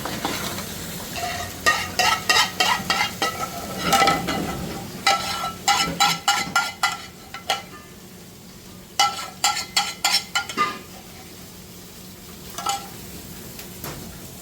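Pre-cooked lamb with garam masala, mixed powder and salt being stirred and fried in a restaurant kitchen pan: repeated bursts of rhythmic metal scraping and stirring over a steady sizzle, with quieter pauses between, close and fairly loud, no talking.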